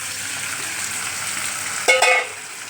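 Chicken curry sizzles and fries in a pan with a steady, close hiss, and a brief burst of louder stirring and scraping near the end.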